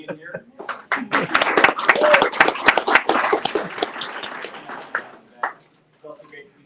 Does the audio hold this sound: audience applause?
yes